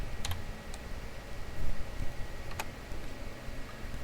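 Computer keyboard keys struck in a short burst of typing, then a firmer press of the Enter key, sounding close over a faint steady hum.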